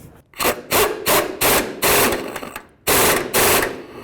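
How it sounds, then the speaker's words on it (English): An 18mm swivel socket on a ratchet snugs idler arm bracket bolts on a 1988-2002 GMC Sierra 1500, giving a close, loud series of rapid clicking bursts, about eight strokes in quick rhythm with brief pauses between. "I'm going to go ahead and use my 18mm swivel socket to snug these up"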